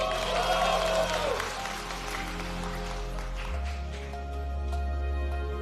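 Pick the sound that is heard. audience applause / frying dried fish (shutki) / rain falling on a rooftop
audience applause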